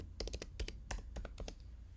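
Rapid keystrokes on a computer keyboard as a password is entered: about a dozen crisp, close clicks in quick uneven bursts, with no voice.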